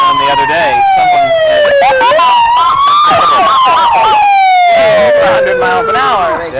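A state police car siren wails loud and near during a parade, its pitch sweeping down and up in long cycles and then a faster yelp, with the sound blaring throughout.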